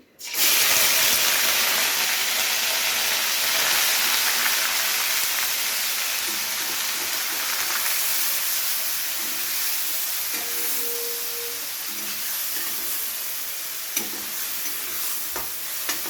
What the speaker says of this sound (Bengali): পেঁয়াজটাকে হালকা করে ভেজে নেব ততক্ষণ পর্যন্ত যতক্ষণ না পেঁয়াজের কাঁচা গন্ধটা চলে যাচ্ছে।